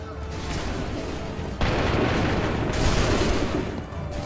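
Massed musket fire in Assassin's Creed III: low rumbling background builds into a sudden dense burst of shots, then another loud volley a second later, with voices audible among the blasts.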